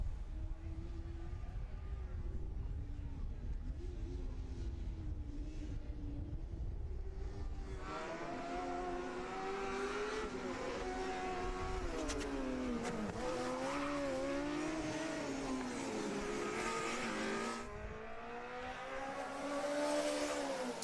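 Formula SAE combustion race car from USC Racing in an endurance event, a loud revving engine sweeping past with rising and falling pitch through gear changes, a lower engine drone before it arrives.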